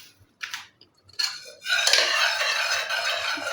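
A spoon stirs black salt into raw mango pulp in a bowl, giving a few light clinks followed by a steady, close scraping swirl.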